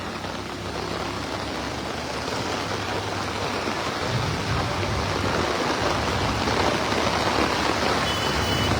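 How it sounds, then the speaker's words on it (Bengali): Heavy rain pours down at an outdoor cattle market in Hazaribagh, a dense, loud, continuous hiss and patter with no pause. "অনেক জোরে বৃষ্টি পড়তেছে"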